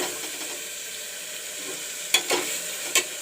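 Masala spices fry in a pan for palak and chana dal, giving a steady hissing sizzle close by, with a few brief scrapes of stirring near the end.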